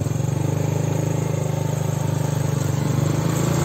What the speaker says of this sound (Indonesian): Waduh, ada juga motor. Ada motor tuh.